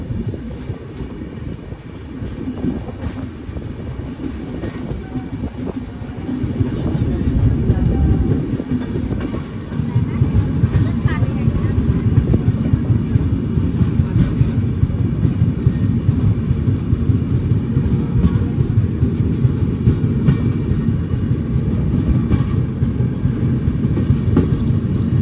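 The Shri Ganganagar SF Express rolls through Amalner railway station at platform 1, a loud, continuous rumble with rhythmic clickety-clack of wheels on rail joints building up and holding steady nearby.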